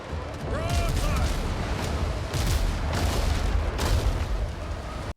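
Dense, rumbling ship cannon broadside fire and booming blasts in a pirate survival video game roll continuously, loud and close, with crackling debris and a voice faintly mixed in.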